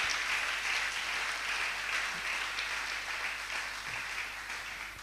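A church congregation applauds in praise, a steady, dense wash of clapping that fills the space evenly and stays fairly loud throughout, with no speech over it.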